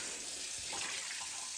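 Water pours steadily into a pot of potato soup broth, a continuous close splashing gush with no pause and no talking.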